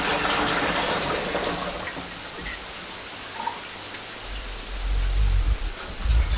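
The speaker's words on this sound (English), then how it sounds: "So what I'm going to do is strain this one." Lilac dye liquid pours and splashes from a pot into mason jars. A steady trickling wash fades partway through, then returns as heavier, close gurgling pours near the end.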